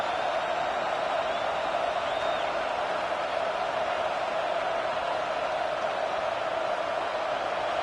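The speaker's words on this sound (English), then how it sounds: "Man, this crowd really affecting the football game." Steady, dense roar of a home stadium crowd in a football video game, a constant wash of massed voices at even loudness throughout with no distinct shouts standing out.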